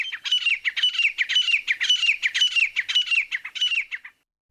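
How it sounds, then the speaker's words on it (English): Two male partridges call repeatedly as they challenge each other before a fight, a rapid series of loud, harsh rhythmic chirping cries, close and clear, about ten bursts before stopping abruptly. "The two partridges challenged each other frequently as they drew closer together, hastening to the fray, till finally they met."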